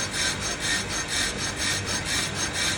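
Toyota Avanza brakes giving an odd rhythmic scraping noise, about eight even rubbing strokes that swell and fade like sawing, fairly quiet and steady with no talking.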